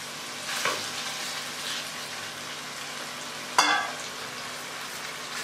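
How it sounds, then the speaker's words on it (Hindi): Fish in spiced masala sizzles steadily in a pan, a continuous low fry with a sharp clatter of utensil or ingredients hitting the pan midway; no one speaks. "अब हम इसमें अपनी मछली डाल देंगे।"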